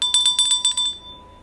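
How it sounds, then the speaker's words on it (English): A bright bell rings in a quick series of about six clear strokes over roughly a second, then a short fading tail into quiet. "That bell ring was for Steve, Carter's kids."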